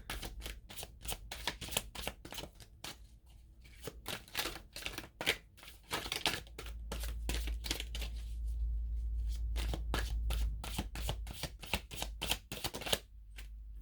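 Tarot cards are shuffled by hand to draw a card, with quick, crisp riffling bursts and flicks repeating in an irregular rhythm, close and fairly quiet, with a soft low hum underneath in the middle.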